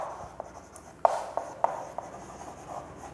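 Chalk writing on a board during a math lecture on matrices: short, close scratchy strokes with a few sharp taps, over a steady room hiss and without talk.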